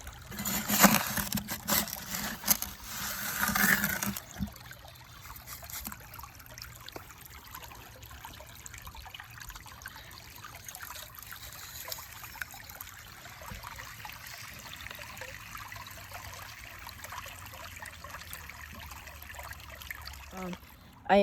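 Water runs steadily through a gold prospecting sluice, a continuous trickling and streaming wash with a louder, more turbulent burst in the first few seconds before settling into an even flow.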